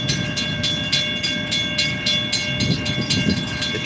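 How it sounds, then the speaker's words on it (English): A freight train rolls slowly past at a rail line, with a steady rumble and a regular clickety-clack of wheels over rail joints, close and continuous. "The train is most definitely slow"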